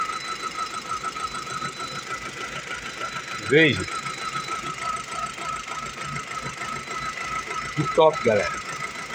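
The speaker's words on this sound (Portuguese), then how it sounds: "carro ligado. Veja a lenta. Motor paradinho" A Chery Face car engine idles after a spark plug change, running as a steady low hum with a couple of brief squeaky sounds, while someone talks over it.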